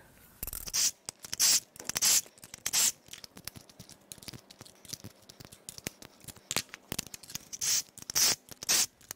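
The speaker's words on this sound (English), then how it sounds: "This is why I like using a ratchet to crack these loose" A ratchet cracking loose the spark plugs on a Mercedes M156 6.2L V8 engine, a series of quick rasping clicks in short bursts with brief pauses between them, close and crisp.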